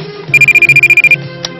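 A telephone rings in an animated Chinese family sitcom: one quick burst of about ten rapid, evenly pulsed electronic trills over a soft background hum, then quiet.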